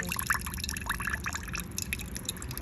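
Coconut water pouring and dripping out of a freshly cracked coconut, a steady close trickle with small splashy drips running throughout, no talk over it.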